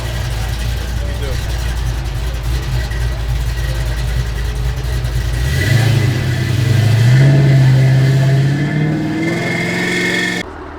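A red Maserati at an outdoor car show idles with a low rumble, then the engine revs up loudly and holds a rising, sustained roar before cutting back, with people talking nearby.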